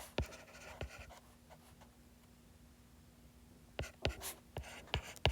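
Pen or marker writing by hand, heard as a few quick, crisp strokes at the start and a busier burst of scratchy strokes near the end, with a quiet, steady hum between them and no talking.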